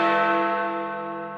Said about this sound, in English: Big Ben is the bell